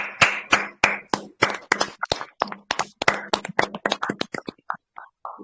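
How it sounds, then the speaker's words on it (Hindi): An audience claps for a speaker at a DXN business talk, a run of sharp, loud, close hand claps in an irregular rhythm that thins out toward the end. "सर के लिए पहले जबरदस्त ताली होनी चाहिए।"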